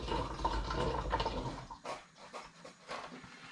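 Apple juice pours from a litre bottle into a fermenter for banoffee-flavoured hard cider, a steady splashing glug for almost two seconds, then softer intermittent trickles and splashes.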